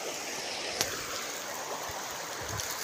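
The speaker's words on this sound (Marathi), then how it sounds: "नदीचं पाणी झुळझुळ वाहतंय." River water flowing steadily past a farm field, a soft continuous wash with faint trickling, heard alone at low level with a brief knock partway through.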